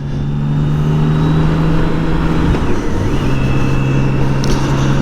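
A BMW K1600 GTL motorcycle runs at speed on the Autobahn, its engine giving a loud, sustained drone that shifts pitch once midway as it pulls, heard up close with wind rush.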